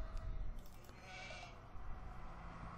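Sheep bleating in the strategy game Age of Empires 2 HD Edition, a few short game-animal bleats over a low continuous background hum, with no talk.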